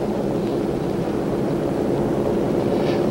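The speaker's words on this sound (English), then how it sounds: "It's a normal takeoff." Aircraft engines drone steadily and loudly during a normal takeoff, a continuous broadband roar that holds evenly from start to finish with no voices over it.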